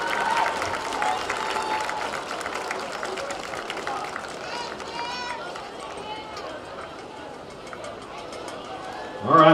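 Crowd applause and cheering for graduating seniors at a 2017 band and Golden Girls senior night on a field, a steady broad wash of clapping with voices mixed in throughout.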